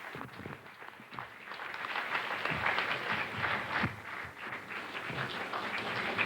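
A variety-show audience applauds a general as he leaves the stage, uneven clapping that swells and thickens over several seconds, with some sharper individual claps and a few heavier thumps mixed in.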